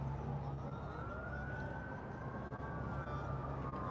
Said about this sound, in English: Ambulance coming down?